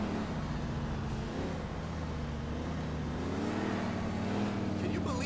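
A car driving in Grand Theft Auto IV hums along with a steady engine drone that wavers in pitch, with someone talking over it throughout.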